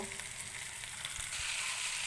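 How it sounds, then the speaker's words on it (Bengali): Prawns frying in hot mustard oil in a frying pan, a continuous close sizzle with a couple of low thumps as pieces shift, no voices. "গরম তেলে এবার আমি মাছটাকে ভেজে নেব।"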